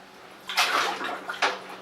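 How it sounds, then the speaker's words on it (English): Cooked razor clams dumped into a bowl of ice-cold water, two bursts of splashing and sloshing about a second apart, close and fairly loud, with no talking. "Then you pull your clams out and you quickly submerge it into cold water."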